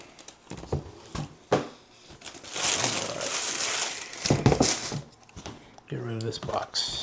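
Paper stuffed inside a sneaker box for a pair of Jordan 4s is crumpled and pulled out in bursts of loud, close crinkling, broken by pauses and a voice talking.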